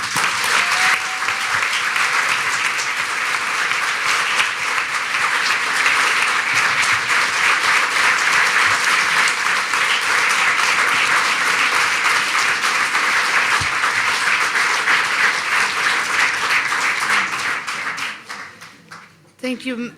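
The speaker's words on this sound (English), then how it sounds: "I hope you feel at home with that applause back here in Oslo." A large audience at a panel discussion in Oslo's Litteraturhuset bursts into sustained, loud applause that holds for many seconds before tapering off at the very end.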